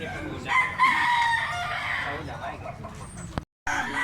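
A 7-month-old rooster in Cebu, Philippines crows loudly at mid distance, its long strained call carrying over outdoor background noise, with a brief dropout near the end.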